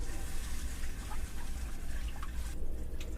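Water pours steadily into the tank of an RV toilet, a continuous, close gushing and sloshing flow with no talk over it.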